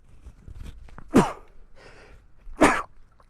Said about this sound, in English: hold your ears. I'm going to sneeze.